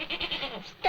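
A goat gives a short, close bleat, a quick wavering cry with a sharper rise at the end, brief and fairly quiet.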